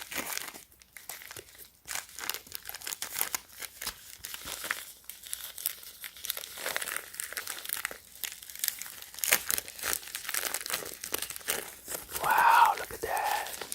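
Plastic packaging for a Supreme overdyed pocket tee and Zippo set is crinkled and torn open up close, a steady run of crisp rustling, crunching and ripping that swells louder near the end, with faint whispery sounds.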